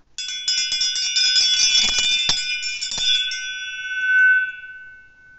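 A bright metallic bell rings with a rapid shimmering cluster of strikes, then a single clear tone lingers and slowly fades into silence.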